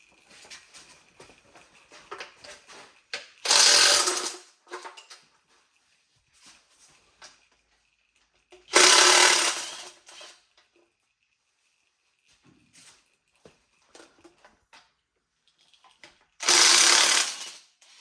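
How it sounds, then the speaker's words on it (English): A ratchet loosening the oil pan bolts on a Camaro engine in a garage, three loud bursts of rapid clicking separated by quieter taps and tool handling, close up with no voices. "we'll go ahead and start cracking all the oil pan bolts loose here"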